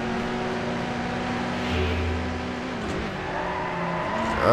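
Racing car engine in the Midnight Club: Los Angeles game, a steady loud drone holding a sustained pitch, rising and shifting slightly with gear changes, continuous throughout with no talk.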